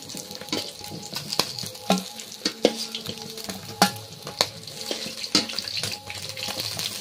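Large two-kilogram pangas fish pieces frying in hot oil, a steady sizzle close by, broken by sharp clinks and scrapes of stirring.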